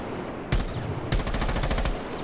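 Buck's rifle in Rainbow Six Siege fired at a wall: one loud shot, a pause, then a rapid automatic burst of close, sharp reports over quiet background.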